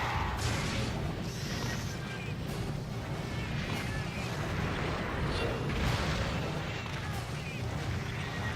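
Monster's cluster bomb attack in Monster Hunter Generations, a sustained loud rumbling barrage of crackling blasts and booms lasting several seconds, with a dense low roar throughout.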